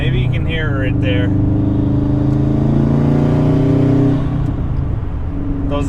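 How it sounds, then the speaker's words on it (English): A 2012 Subaru WRX hatchback's boxer engine runs through an aftermarket exhaust, a close, loud, steady droning rumble with strong low harmonics that swells slightly before easing. Someone speaks briefly at the start and end. "I love the sound of these boxer engines."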